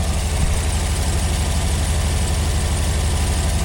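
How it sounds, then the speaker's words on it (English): A Chevrolet Silverado Trail Boss pickup engine idles steadily, a low continuous rumble with a deep, even throb that stays close and constant throughout, with no voices over it. "so just some of this engine noise here"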